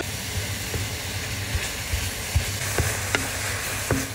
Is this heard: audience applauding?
no